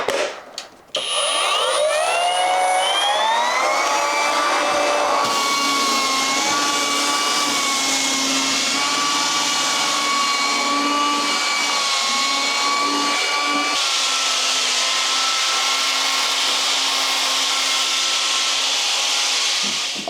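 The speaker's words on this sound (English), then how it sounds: "I'm praying that this Azito sander can save me with these walls." Azito electric sander with an 80 grit pad grinding across interior walls, a steady loud whirring drone with shifting tonal whine lasting throughout, no voices.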